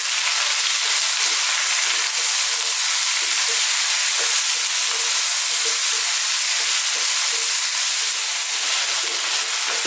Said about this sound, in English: we're going to continue frying this on a kind of fairly high heat for about another 3 minutes.